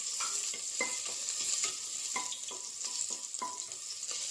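Crushed garlic and ginger fry with fennel seeds in hot oil, a steady bright sizzle close by, broken by regular soft knocks and scrapes of a stirring spoon.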